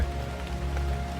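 Steady rain falling on a surface, a dense continuous patter with a low, constant hum beneath it and no voices.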